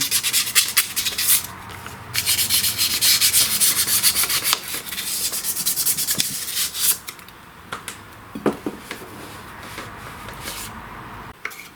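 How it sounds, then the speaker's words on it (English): A rusty engine shaft on a lawn tractor is rubbed with 400-grit sandpaper, giving close, loud bursts of gritty scraping in uneven strokes with brief pauses between them. "with a 400 paper, I'm just going to clean the outer part here of the shaft"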